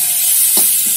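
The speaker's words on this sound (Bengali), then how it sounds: "এবার বাঁধাকপিটা বসিয়ে দেবো।" Cabbage sizzles and fries in a hot pan with oil, a loud, bright continuous hiss marked by a couple of short stirring scrapes.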